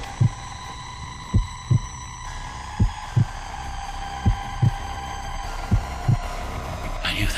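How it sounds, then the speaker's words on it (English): An old man's heartbeat thuds in paired, steady beats, roughly eight distinct low throbs over a constant dark hum, with no one speaking. "It was the beating of the old man's heart."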